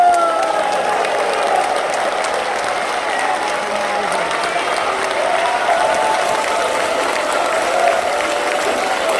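A large audience at a Gangwon Special Self-Governing Province launch ceremony gives the president steady, sustained applause, a dense continuous roar of clapping with faint crowd voices underneath.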